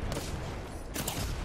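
Gunfire in the Apex Legends video game, a dense continuous barrage of shots with a sharper burst near the middle, loud and steady throughout, with no talking.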